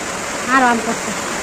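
Heavy rain pours in a village courtyard as a steady, loud wash of noise, while a person's voice speaks briefly over it in the middle.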